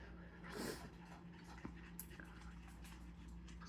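A Boston Terrier pants quietly in quick, rhythmic breaths against a low steady hum, close but faint.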